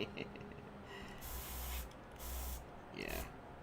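A LATITOP airbrush sprays paint onto tabletop terrain in three short, quiet hissing bursts separated by brief pauses, with no talk.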